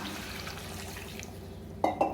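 Water poured into a pan of chicken uppu kari frying with onions and dried chillies, a quiet simmer and faint stirring followed by two short splashing bursts near the end.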